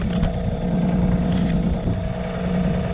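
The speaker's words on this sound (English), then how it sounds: "this is what it looks like motoring out of here tonight" A small outboard motor on a little boat heading out at night, a steady close droning hum running without a break.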